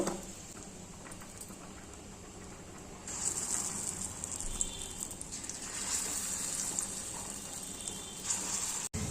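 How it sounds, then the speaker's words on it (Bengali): Lentil fritters seasoned with turmeric and salt fry in hot oil, giving a steady close hiss and bubbling patter that swells partway through and holds at an even level, with no voices. "এদেরকে তেল দিলাম বড়াগুলো এবার ভেজে নেব"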